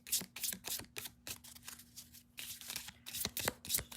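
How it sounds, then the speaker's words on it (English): Rapid bursts of tarot card shuffling, crisp riffling flutters repeating in quick succession, fairly close, with a steady faint hum underneath. "I want to shuffle them a bit."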